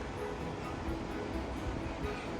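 Small creek, a little river, running through downtown Nederland, Colorado, heard as a steady, dense rush of flowing water that stays even throughout, with no voices.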